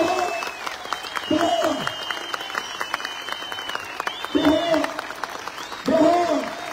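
Crowd applause at a Turkish political rally, a sustained patter of clapping running the whole time with a loud voice breaking in over it in several bursts.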